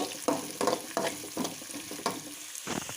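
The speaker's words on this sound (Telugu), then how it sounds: "ఆనియన్ కరివేపాకు కొంచెం ఫ్రై అవ్వనివ్వాలి" Onion and curry leaves fry in a pan, a soft background sizzle broken by repeated scraping bursts of stirring every half second or so, close and moderately loud, with no voices.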